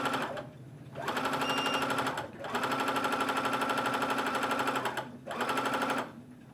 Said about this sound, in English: we're ready to turn on the machine and make sure everything's working